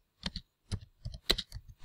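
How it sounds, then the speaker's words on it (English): Keys clatter on a computer keyboard while a class topic is entered for a Zoom schedule, a few quick clusters of close, crisp taps separated by short pauses. "So I am typing out"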